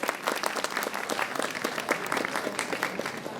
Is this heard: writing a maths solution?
no